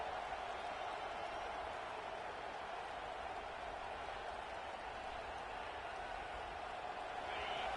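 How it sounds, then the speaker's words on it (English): Stadium crowd in the College Football 26 video game, a constant broad roar of a large gameday audience, even and sustained at moderate level without distinct cheers or voices on top. "This crowd trying to make life miserable for this offense."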